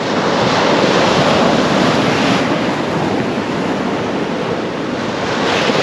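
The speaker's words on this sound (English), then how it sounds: "there is some big waves heading his way" Big sea waves break on a beach, a loud continuous rushing surf roar with wind buffeting the microphone and no talking.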